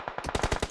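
Rapid automatic gunfire in the mobile battle royale game PUBG Mobile, a short burst of about eight evenly spaced sharp shots, loud and close.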